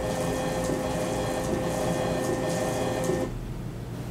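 A Zebra GC420 desktop barcode printer runs off labels with a steady whirring, buzzing mechanical drone for about three seconds, then drops to a quieter hum.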